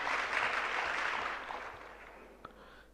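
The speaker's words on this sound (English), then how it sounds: "A round of applause for him, ladies and gentlemen." An audience at a national public speaking competition grand finale applauds a judge, a dense wash of clapping from a crowd at a distance that gradually fades over about two seconds.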